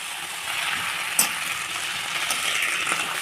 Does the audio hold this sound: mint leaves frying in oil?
yes